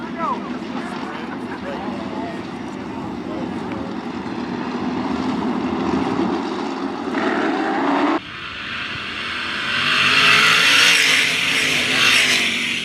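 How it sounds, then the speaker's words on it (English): 305 sprint cars roar around the dirt oval at Attica Raceway Park, loud engine noise swelling and passing close by, with an announcer talking over the racket before the pack surges louder near the end. "Green out for the 4th and final heat race for the 305 sprint cars."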